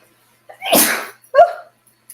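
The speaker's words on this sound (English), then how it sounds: "like I have to sneeze." One sharp, close human sneeze: a short inhale, then a loud burst, followed a moment later by a smaller voiced catch.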